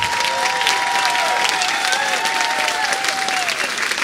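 A Tea Party convention audience in South Carolina breaks into loud, sustained applause, a thick steady roar of clapping with a few whistles and shouts rising above it.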